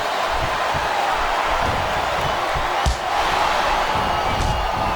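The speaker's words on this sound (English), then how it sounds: "It sounds like this capacity crowd has something on their minds." A capacity arena crowd in the WWE SmackDown vs Raw 2008 wrestling video game roars in a steady, dense wash, with faint thumps and a brief dip midway.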